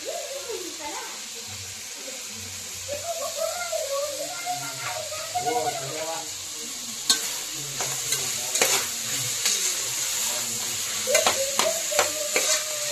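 Mushroom, garlic and chopped onion sizzle in a pan and are stirred, with scraping and tapping from the spoon and a few louder clatters, while a person talks over the cooking.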